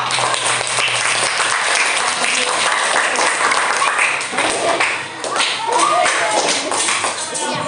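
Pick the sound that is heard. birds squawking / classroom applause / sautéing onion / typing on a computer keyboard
classroom applause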